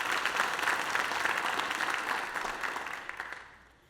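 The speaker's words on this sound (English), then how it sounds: "Please give them another round of applause" Sustained applause from an audience at a county schools program, a dense steady wash of clapping that thins and fades out toward the end.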